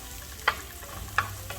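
Onions stir-fried with salt and green chilli in a home kitchen pan, a low steady sizzle broken by two or three short scraping stirs of a spatula, close and fairly quiet.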